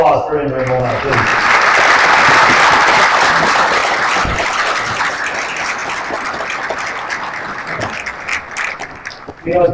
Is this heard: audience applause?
yes